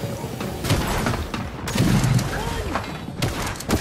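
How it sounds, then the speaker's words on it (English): Shotgun fire in Fortnite comes as a flurry of loud blasts and thuds in a chaotic close-range fight, with a voice talking over the shots. "Being chased with a shotgun."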